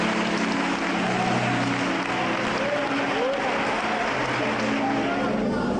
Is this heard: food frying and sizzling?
no